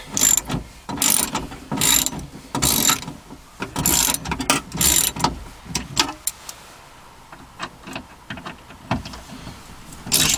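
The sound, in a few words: socket ratchet loosening T30 screws on Dodge Caravan door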